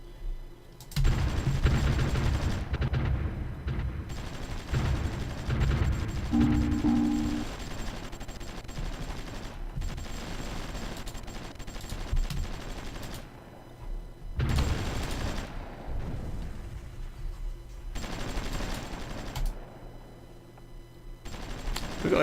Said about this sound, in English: Artillery still making its way down.